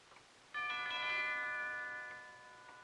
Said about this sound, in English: He just rang the bell again and then stood there.